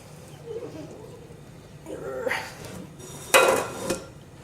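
Kimchi vegetables slammed and pressed down into a jar to raise the brine: faint rustling and squelching pushes, then a sharp knock against the jar and a couple of duller thumps, close and quiet.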